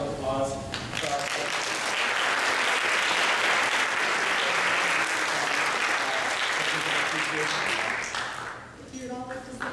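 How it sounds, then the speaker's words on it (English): A conference audience at the 2017 SDOHS STEM Conference claps in sustained, dense applause that fills most of the stretch, then thins out into scattered claps near the end. "Please, one more round of applause for our"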